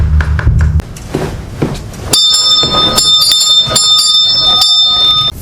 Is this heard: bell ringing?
yes